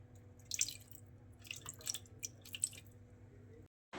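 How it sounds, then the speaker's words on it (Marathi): A small amount of water trickles and splashes in short bursts into a pot, then stops abruptly. "त्यामध्ये थोडंसं पाणी टाकूया"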